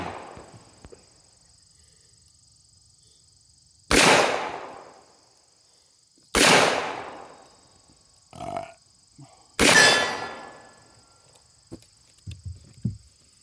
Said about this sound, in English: About the time I get my earmuffs off, he goes shooting.